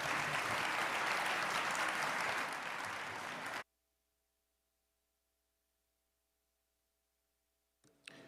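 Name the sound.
audience applause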